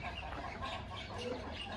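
An Iran kaki breed hen, a rare chicken, clucks steadily and fairly close at a poultry seller's in Nellore, with a continuous low murmur of background noise and no speech.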